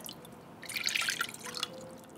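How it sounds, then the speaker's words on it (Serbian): Water, about 200 ml, is poured into a small saucepan in a home kitchen, a short splashing trickle that swells mid-clip and then tails off into faint dripping, close and fairly quiet. "Stavit ću u šerpicu 200 ml vode."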